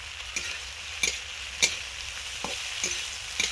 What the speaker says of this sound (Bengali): এরকমভাবে ভাজলে খুব সহজেই, খুব তাড়াতাড়ি এবং নরম নরম ভাজা হয়।